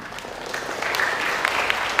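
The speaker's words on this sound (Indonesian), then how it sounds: "Tepuk tangan untuk beliau." Audience clapping for a family planning counselor introduced at a BKKBN community event in the KPRI building, Silo, Jember, building over about two seconds into a steady, moderately loud patter with a faint tonal hum underneath.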